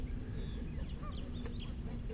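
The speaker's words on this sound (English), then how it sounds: "The geese are flying by me." Wild geese honking as they fly past a park beach, a scatter of short nasal calls at moderate distance over a constant low rumble of wind and surf.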